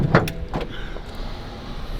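Hood of a BMW M4 Competition being lifted, a couple of quick close clunks and a soft mechanical movement at the start, then faint background hum.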